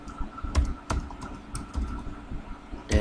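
Keys tapped on a computer keyboard while a command is entered, a few sparse, close clicks and clacks spread over a few seconds with quiet pauses between them, no voices.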